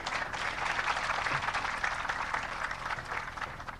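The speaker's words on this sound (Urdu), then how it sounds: "اور اب آپ سب کی تالیوں میں, بھرپور تالیوں میں" Crowd applause greeting Prime Minister Shehbaz Sharif at a ceremony: dense, continuous clapping from a large audience, heard from a distance, steady for a few seconds.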